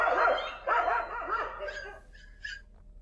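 Puppies whimper and bark in a string of high, yelping cries, loud at first and then fading into thinner whines toward the end.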